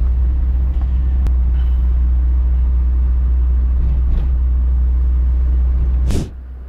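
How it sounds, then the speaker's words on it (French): Steady low roar of wind and road noise inside a moving car with both windows open, a constant loud rumble throughout that cuts off sharply near the end. "Je voulais tester le son en conduite avec les deux carreaux ouverts pour voir ce que ça allait donner."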